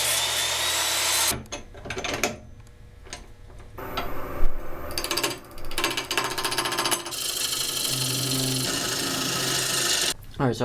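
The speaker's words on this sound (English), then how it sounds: "instead of hollowing it out on the lathe, I'm just going to use the router here" Handheld router cutting a slot into a wooden shifter lamp body for a dimmer, a loud broadband whine running in several bursts with short pauses between passes.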